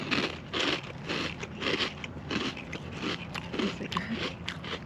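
Loud close crunching and chewing of Cap'n Crunch cereal in thick chocolate milk outdoors, repeated bites in an uneven rhythm.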